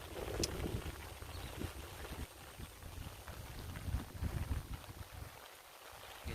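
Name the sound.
strong wind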